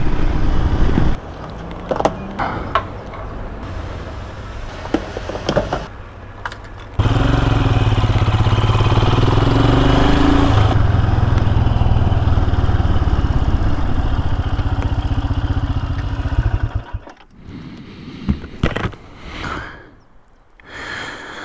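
A motorcycle engine runs steadily up close, rumbling and revving for a long stretch before dropping away into quieter, intermittent noise.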